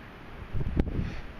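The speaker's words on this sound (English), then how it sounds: "Wind's pretty strong today" Strong wind buffeting a microphone outdoors, a low rumbling gust that swells midway and stays rough and close, no voices.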